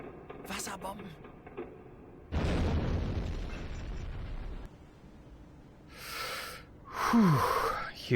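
Depth charges detonating underwater in the submarine game Silent Hunter 5, a heavy muffled boom rolling out in a long rumble, with quieter noises and a faint voice around it.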